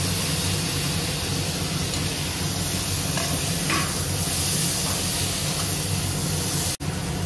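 Chopped tomatoes hiss and sizzle steadily in a hot pan with cumin, coriander, chili and turmeric powders and garam masala, a dense close frying noise broken by a faint scrape near the end.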